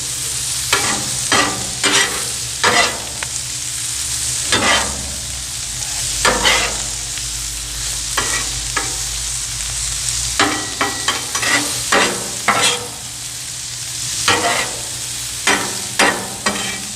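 Carrots in melted butter sizzle continuously in a pan under repeated spoon stirs and scrapes that come in irregular bursts, close up with no talking.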